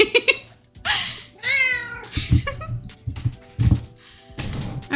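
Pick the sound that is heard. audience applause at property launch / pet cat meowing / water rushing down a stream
pet cat meowing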